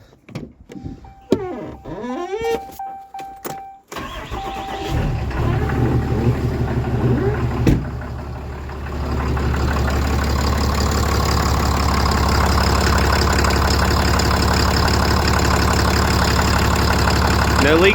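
A Cummins diesel with a CP3 pump, just repaired after a loose feed line, is handled with clicks and clatter before it fires up at about four seconds and settles into a loud, steady, gruff idle that holds to the end.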